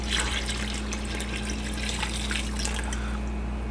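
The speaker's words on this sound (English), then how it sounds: "This first addition was 1 gallon of water, and let's go add a little bit more." Water poured from a tap into a pot of turkey bones for stock, a steady splashing rush with bright trickling, close and continuous without talk.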